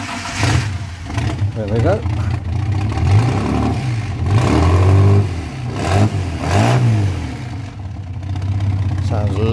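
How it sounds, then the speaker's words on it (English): The engine of a 1961 Ford rat rod is revved with several throttle blips, each rising and falling loudly over a rumbling idle, close by, with someone talking over it. "I'll just give a couple of blips on the old throttle, and it should."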